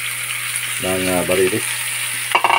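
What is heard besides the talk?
meat sizzling as it is added to the pan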